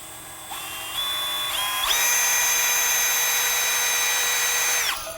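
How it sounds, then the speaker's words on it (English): A power drill whines steadily while drilling a hole in metal, stepping up in pitch as it speeds, then holds a loud, high drone for several seconds before stopping. "So we're just going to drill a hole."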